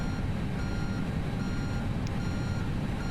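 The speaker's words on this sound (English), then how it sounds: "jetway's pulling up" An airport jetway in an Airbus A320 flight simulator moves toward the parked aircraft at Vancouver. It sounds a faint, evenly spaced series of high reversing beeps over a low, steady background hum.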